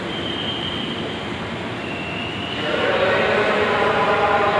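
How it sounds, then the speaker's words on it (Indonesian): A KRL Commuterline electric train arrives at a station, with a steady rumble that swells louder partway through, a faint squeal from the wheels and a busy platform hum. "Kayak keretanya udah sampai."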